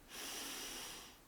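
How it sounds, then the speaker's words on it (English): A single slow, steady inhale during a guided yogic breathing exercise, a soft airy rush that swells quickly, holds for about a second and fades, close and quiet with no talking. "So we breathe in"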